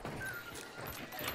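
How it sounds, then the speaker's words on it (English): A horse in an open-world shooter game, heard briefly at moderate level with hoof clip-clops and a faint whinny amid game ambience. "Why is that horse neighing?"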